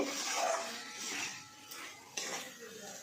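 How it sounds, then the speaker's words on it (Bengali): A spoon stirs boiled peas and mushrooms through spices in a pan, with soft scraping and clinks of metal on the pan coming in several close, uneven passes. "মশলার মধ্যে মটর আর মাশরুম কিছুক্ষণ নাড়াচাড়া করে কষে নেব।"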